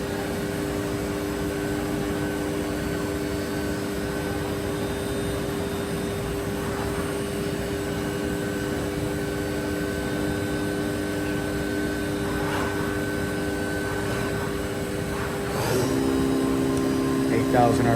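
A 2021 Haas VF4SS CNC vertical mill's spindle spins at 6000 RPM, giving a steady, even machine hum with a high whine. It holds constant, then shifts in pitch and grows slightly louder near the end.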